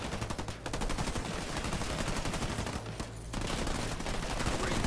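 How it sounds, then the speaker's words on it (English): Gunfire from Halo Wars 2 units in battle: loud, dense, rapid bursts of machine-gun and rifle shots fired without a break, with a short dip before the barrage resumes, and no speech. "These guys are still shooting."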